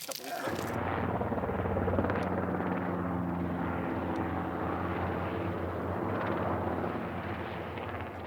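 A spotter helicopter flies while mustering a camel herd, a steady, loud rotor and engine drone that holds throughout with a low throbbing hum.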